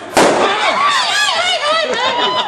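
A balloon bursts with one sharp, loud pop during a balloon-blowing contest at a Bangsaen event, followed at once by a crowd shrieking and cheering.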